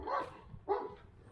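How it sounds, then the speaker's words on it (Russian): A small dog barks twice in quick, short bursts close by, outside near a building site where a curved timber roof frame is going up. "Эта собачка лает, а?"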